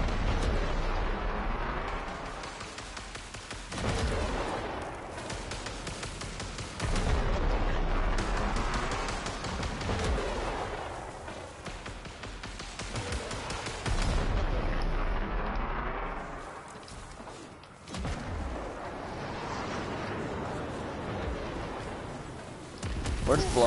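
Grenade explosions and heavy blasts in the Warframe game, a dense series of loud booms and rumbling bursts filling the stretch with brief lulls between, mixed with game noise and voices talking over the action.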